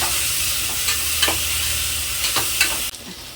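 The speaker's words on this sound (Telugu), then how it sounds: "ఇప్పుడు బాగా కలుపుకోవాలి." A spoon stirs spiced dosakaya chicken curry base frying in a pan, steady sizzle with several distinct scraping strokes, close and loud, ending abruptly near the close.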